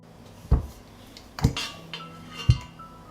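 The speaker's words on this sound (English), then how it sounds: "I put a cloth on the bottom of the pan, and I put the jars in the pot" Glass jars of tomatoes and peppers are set down into a cloth-lined cooking pot, making three dull, muffled knocks about a second apart with faint clinks, close by and otherwise quiet.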